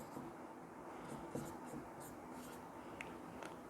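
Pen writing rational numbers on paper or a board during a class 8 maths lesson, a soft continuous scratching with a few light taps, faint and close, without talk over it.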